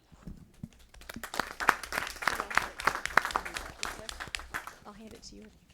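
Parents and attendees at a school board meeting clap in recognition of absent honorees; the crisp applause swells, then fades out, with voices audible underneath.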